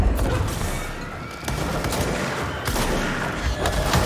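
A small gun fires rapidly in the video game Control, a dense unbroken burst of gunfire that stays loud and close for the whole stretch, with a couple of sharper bursts along the way.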